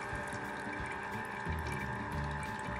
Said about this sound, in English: Runs water through it.